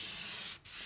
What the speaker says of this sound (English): This brush sprays well.